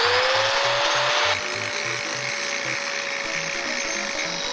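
A power tool grinds stone for a set of bookends, giving a steady, close, high whine with a rough abrasive edge that drops slightly in level partway through and then runs on evenly.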